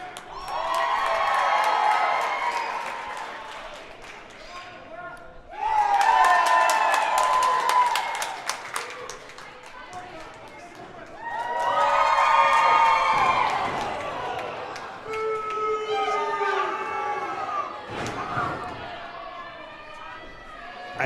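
Crowd at an indie wrestling show cheering and shouting in loud, rolling surges that swell, dip briefly and rise again, with voices mixed into the roar.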